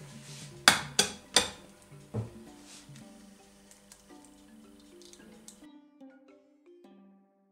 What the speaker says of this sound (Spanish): Y ahora cogemos un huevo, cascamos.